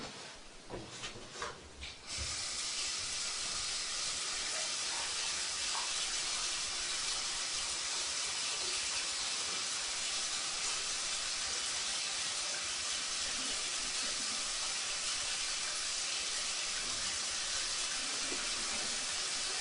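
Water runs steadily from a bathroom sink tap into the basin, a constant rushing hiss that continues unbroken after a few brief knocks at the start.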